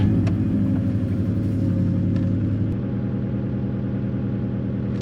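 A Subaru GC8 engine that has just been fuel-tuned settles into a steady, loud idle close by, a rough low rumble with a slight change in tone partway through.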